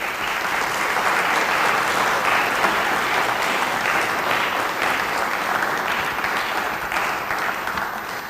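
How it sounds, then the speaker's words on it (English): An audience at a community appearance awards presentation claps in a continuous, dense round of applause that stays loud and even throughout, with no voices over it. "Another round of applause, please."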